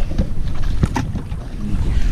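A bangka fishing boat off Calatagan, out at sea after rain, rocks amid heavy wind buffeting the microphone, with a few dull hull knocks and no talk.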